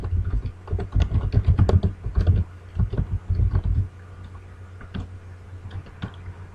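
A computer keyboard is heard up close as a search query is typed into Facebook. There is a quick, dense flurry of key clicks for about four seconds, then a few sparse taps.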